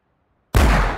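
A single sharp hunting rifle shot in a hunting video game bursts in after half a second of silence, loud and close, with a sustained boom trailing off.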